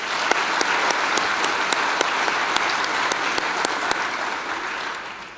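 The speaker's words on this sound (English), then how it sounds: "Let's give them a round of applause." Sustained audience applause fills a banquet hall at the Modesto Chamber of Commerce 2014 awards gala, a dense, steady wash of clapping with a few sharper individual claps standing out, fading slightly at the end.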